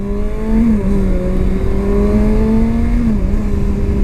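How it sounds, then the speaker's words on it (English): A loud, close 2019 Kawasaki Ninja ZX-6R sport motorcycle engine idles steadily, its pitch drifting up and down slightly in a smooth drone, at night, with no voices. "the engine sounds a lot cleaner as it's idling"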